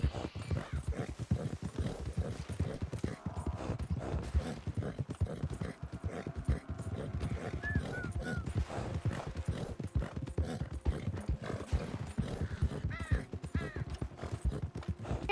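A wild horse galloping close by, its hooves pounding out a dense, rapid clip-clop rhythm that runs steadily throughout, with an occasional brief whinny heard faintly in the mix.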